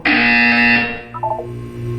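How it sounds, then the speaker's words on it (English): A loud, harsh buzzer in the Portal 2 video game sounds for about a second, then fades into softer electronic tones. "When you hear the buzzer, look down at the floor."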